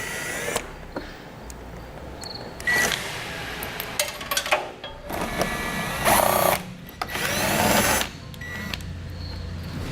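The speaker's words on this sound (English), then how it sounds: "we're going to need to remove several bolts using a 7mm socket" A power tool with a 7mm socket takes bolts out from under the front fascia of a 2018 GMC Acadia, whirring in short, separate bursts with pauses between them and clicks and handling noises in the gaps.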